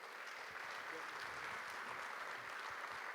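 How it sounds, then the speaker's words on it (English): An audience at a talk on emotional resilience applauds as a guest speaker is welcomed. The clapping is soft and steady, a sustained wash of many hands that runs unbroken from start to end. "Please, let's welcome with a round of applause"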